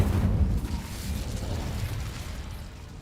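The Incendio fire spell cast in Hogwarts Legacy: a loud fiery burst at the start that settles into a fading rushing roar.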